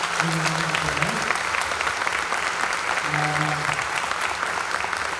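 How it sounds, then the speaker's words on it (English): Audience applause for a panel at a workplace disability inclusion event, a steady, dense clapping that continues for the whole stretch, with a few faint voices mixed in beneath it. "Can we give our panel an incredible round of applause?"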